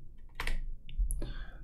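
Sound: pressing Ctrl Alt T on computer keyboard

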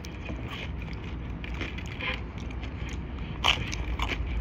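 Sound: crunch of biting a tomato pie pizza slice

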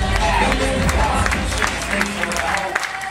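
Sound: audience applause at NYC fashion show

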